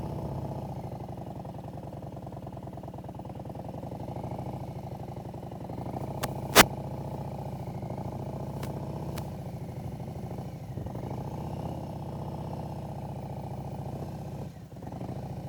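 A motorcycle engine runs steadily at a low, even drone while the bike is ridden in tight circles in a parking lot, with a couple of sharp clicks partway through.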